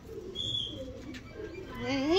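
Pigeons in a loft coo softly in low, throaty rolls at moderate distance, with a few chirps and a rising whistle-like call toward the end, while people talk faintly in the background.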